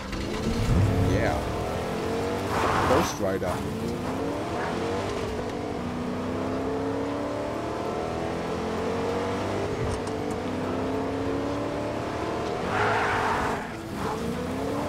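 A car engine drones and revs steadily in Fortnite, with bursts of acceleration and some tire noise throughout. Two people chat over the motor, and a short phrase is spoken near the start.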